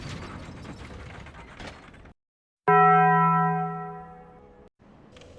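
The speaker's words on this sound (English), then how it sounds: "it's time to climb this ladder and ring the first bell." A large bell rung in Dark Souls Remastered after climbing a ladder following the Bell Gargoyles fight: a single loud metallic strike that rings out and slowly decays, preceded by clanking mechanism noise.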